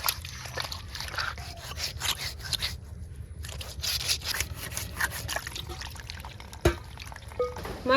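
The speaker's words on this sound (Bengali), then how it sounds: "মাছটা ধোয়া করা হয়ে গেছে" Water trickling and pouring while cut fish is rinsed for a mixed-fish curry, with steady splashing, rubbing and dripping close by, plus a single sharp knock near the end.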